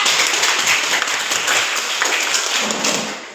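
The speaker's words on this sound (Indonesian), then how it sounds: "Oke, kasih aplaus kelompok 3" A classroom of students applauds a presenting group with a dense, steady burst of clapping that holds for about three seconds and fades slightly at the end.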